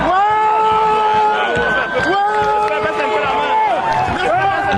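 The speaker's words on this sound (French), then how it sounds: "Le cortège présidentiel fait son passage sous les acclamations d'une foule en liesse." A crowd cheers loudly and steadily as Paul Biya's presidential motorcade passes in the early evening. Warbling, rising and falling whistles or ululations ride over the dense roar of voices, which lasts throughout.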